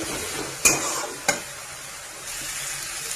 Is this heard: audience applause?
no